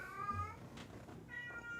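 A house cat meows twice, faint and somewhat distant, with a short pause between the calls over a quiet background.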